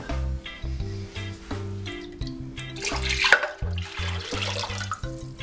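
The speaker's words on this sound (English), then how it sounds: "Take water and rinse the jar." Water runs and splashes into a jar to rinse out leftover tomato sauce, a close wet pouring and sloshing heard under light background music.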